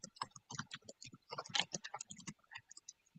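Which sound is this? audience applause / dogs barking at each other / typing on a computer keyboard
typing on a computer keyboard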